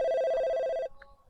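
A telephone bell rings in one sustained, loud electronic burst that cuts off abruptly, leaving a short quiet tail with a faint tone after it.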